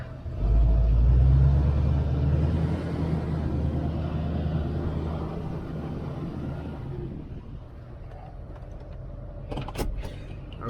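A pickup truck reverses with a boat in tow ahead of a Tampa Bay poker run: a close, loud low engine rumble that eases off, with faint creaks and a brief clatter near the end.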